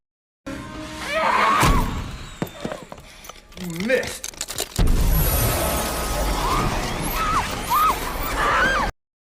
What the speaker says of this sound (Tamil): அப்ப வயலட் ஒரு பொருள் எடுத்து அந்த கண்ணாடியை உடைக்க ட்ரை பண்றா.